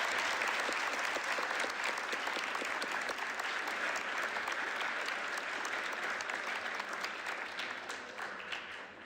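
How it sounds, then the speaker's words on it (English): An audience gives a band a sustained round of applause, dense steady clapping that slowly fades toward the end, with no talking. "Let's give them another round of applause."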